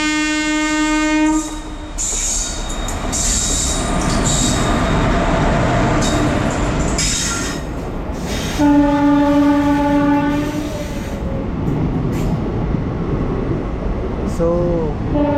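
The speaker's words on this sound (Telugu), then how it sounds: "రాజ్కోట్ అండ్ షిరిడి సాయి సికింద్రాబాద్ ఎక్స్ప్రెస్ అన్నమాట ఇది" The Rajkot–Shirdi Sai Secunderabad express passes close by, its horn blaring at the start and again midway over a loud continuous rumble and clatter of wheels, with a later squeal.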